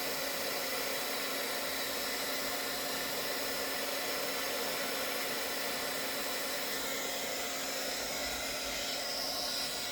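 Heat embossing gun blowing hot air during a craft project, a steady, even whooshing hiss from a nearby blower that runs without a break at moderate volume.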